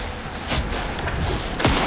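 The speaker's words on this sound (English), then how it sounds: "Anderson, pin him down with gunfire for me to get the light on him" Several sharp gunshot bursts and thuds in the busy soundscape of the video game Alan Wake II, with a loud blast near the end over constant background noise.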